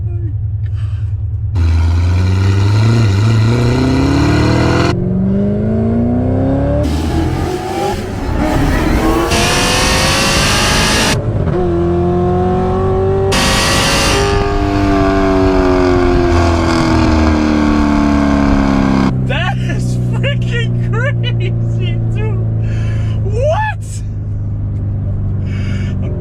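A C7 Corvette Z06 engine revs and accelerates hard with light throttle, its loud rising and falling roar running continuously through a sequence of climbing pitches and shifts, close and dominant throughout.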